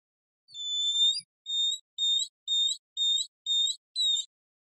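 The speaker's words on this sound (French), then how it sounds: "Le grand oedicnème." Great stone-curlew calling: a series of about seven clear, high, whistled piping notes in a steady rhythm, the first drawn out and the rest short and evenly spaced, heard alone against silence.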